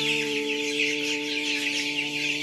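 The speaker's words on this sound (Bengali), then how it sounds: "ফার্মের মুরগির বাচ্চাগুলো অত্যন্ত চঞ্চল এবং সুস্থ সবল।" Tiger chicken chicks on a Sylhet brooding farm keep up a constant, bustling chirping and clucking chorus, close and even in level, over a faint steady hum, with no voices.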